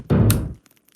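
A single heavy thud of a knock against a door in the horror game Dread Flats, loud and close, followed by a faint patter.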